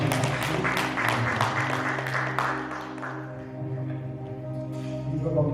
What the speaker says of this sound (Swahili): Watupe waimbaji wetu makofi